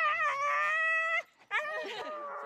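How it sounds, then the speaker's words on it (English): Siberian Husky sled dogs let out long, tonal howls, one sustained note followed after a brief gap by a wavering, yipping howl, loud and close in a snowy winter setting. "the Siberian Husky"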